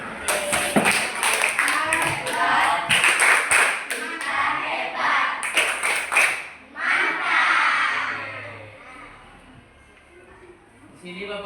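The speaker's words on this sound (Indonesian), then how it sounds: "Tepuk hebat untuk kita semua." A classroom group clapping hands together, brisk rhythmic claps in the first half overlapped by children's voices, then fading into talk.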